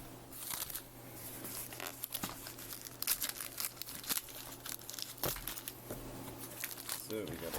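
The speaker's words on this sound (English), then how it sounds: "I'm using an SD card to open packages because it's easier." Packaging for a Retekess TR625 radio being slit open with an SD card, producing close crinkling, tearing and crackling plastic sounds in irregular bursts over a steady low hum, with no talking.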